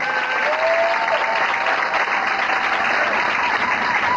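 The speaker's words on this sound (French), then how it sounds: "Acclame Jésus pour cette parole." A congregation at an evangelistic campaign service breaks into loud, steady applause that fills the room evenly from start to finish, with no pauses.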